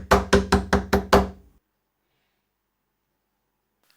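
Five firm knocks on a door in quick even succession, loud and close, followed by silence.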